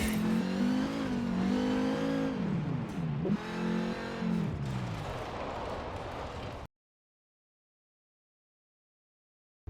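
A car engine in Forza Horizon 4 revs and climbs through several gear changes with a loud, close, continuous drone, then cuts to sudden silence for the last few seconds.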